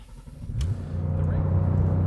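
A Porsche 911 GT3 Touring engine cranks and catches, then settles into a deep, loud rumbling idle close by.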